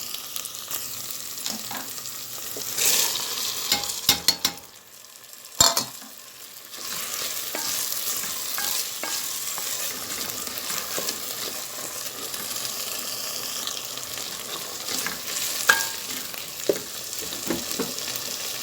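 Tomato paste sautéed and stirred in a pot for red lentil soup, a continuous sizzle with intermittent spoon scrapes and a couple of louder clanks, no talking.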